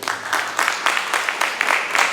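A church congregation at a Sunday worship service claps together in strong, rhythmic bursts, loud and close, with roughly a steady beat of group clapping throughout.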